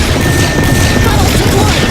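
A sunk Caucasus-class frigate explodes in the jet combat game Project Nimbus. A loud, close, rumbling blast roars for the whole moment without a break.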